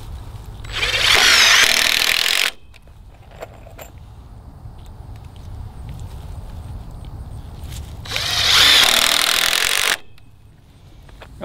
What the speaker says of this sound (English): use four of these wood screws and screw them in from top to bottom here